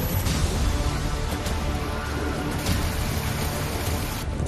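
Steady rain falling across Delhi, a dense, even hiss of drops on surfaces that holds at the same loud level throughout with no pauses, close and all-enveloping, and no voices heard.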